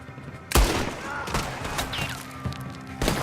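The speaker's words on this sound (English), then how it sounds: "Quite cool having a pistol fight, actually." Pistol fire crackles through a Red Dead Redemption 2 gunfight: several loud, sharp shots come at uneven gaps with echoing tails, over a busy game background with a voice partly mixed in.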